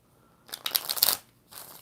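Tarot cards shuffled close by in a short crisp riffling burst of about a second, followed by a fainter brief rustle.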